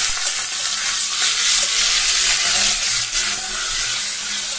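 Chicken pieces with salt and turmeric fry loudly in a pan, producing a dense, close, unbroken hiss of sizzling oil. A low background hum sits beneath it, and nobody talks.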